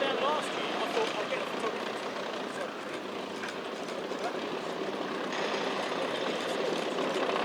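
A captured American-built World War II tank drives around a display arena at a tank show, its engine a steady, broad rumble with rattling and mechanical clatter throughout, heard at moderate distance with no speech in the clip.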